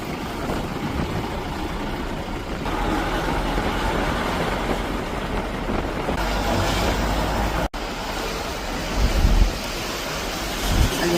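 A swollen river near Darjeeling, on the road toward Siliguri, runs high beside and over the roadway. It makes a steady, loud, broadband roar of rushing water with some wind buffeting and no talking.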